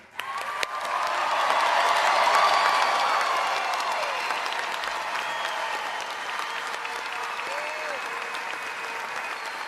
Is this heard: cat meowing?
no